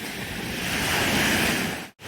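Surf breaking along the shore in Kuwait, with brown, murky water, as a steady broad wash of waves and gusting wind blows on the microphone, swelling through the middle and cutting off abruptly near the end.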